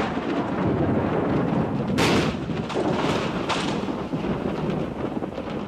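Thunder rolling through mountain hills as a storm approaches: a sustained, rumbling wash of low noise with a sharp crack near the middle and further booms echoing after, loud and close against gusty wind.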